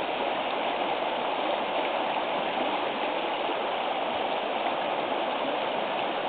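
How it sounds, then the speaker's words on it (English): A mountain creek swollen after days of rain rushes past in a continuous broadband roar of churning water. It is steady and fairly close, with no voices. "It seems like the creek has really increased."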